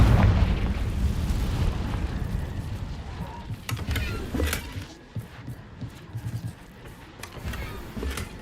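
A Confringo fire spell in the Hogwarts Legacy video game sets off a deep rumbling boom that slowly fades, followed by several sharper pops and crackles of game effects.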